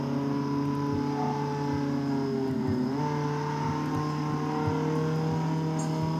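A car driving in a video game, a steady engine drone with layered tonal hum and slight pitch shifts, continuous and fairly loud throughout with no talking.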